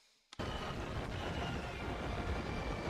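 A ghost train rushes past after a sudden onset, a loud, continuous roaring rumble that fills the space and holds steady without letting up.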